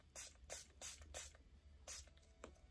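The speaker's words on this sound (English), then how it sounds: "you take your perfume, okay, and you just spray it until it's really, really wet" A perfume bottle sprayed several times onto printed tattoo paper, short airy hissing bursts in an uneven rhythm, close and fairly quiet with no talking.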